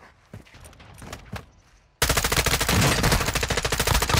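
Sustained BAS-P automatic gunfire in Warzone: quiet scattered shots at first, then a loud, dense continuous burst of rapid fire for the last couple of seconds.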